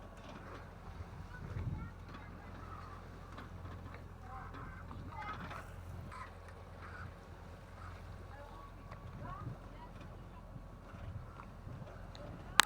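An auxiliary motor aboard a 10.40 m sailing yacht hums faintly and steadily at sea in the bay of Toulon, a low continuous drone under wind, water and occasional voices.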